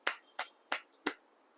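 Four crisp, sharp hand claps in a steady, evenly spaced rhythm, fairly quiet and close, with no other sound between them.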